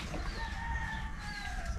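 Chickens on a farm, with a sustained rooster-like call and clucking over a steady low rumble of background noise, moderately close, with no talking.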